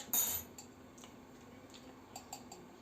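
Metal teaspoons used for measuring sugar for Turkish coffee are handled in a kitchen, with a bright clink at the start followed by a few soft, sparse ticks and taps.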